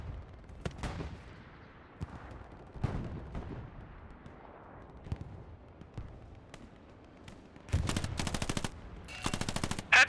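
Thompson submachine gun fire in a World War II shooter video game, with scattered single shots and short bursts early and then two dense, loud rapid bursts near the end, sounding close.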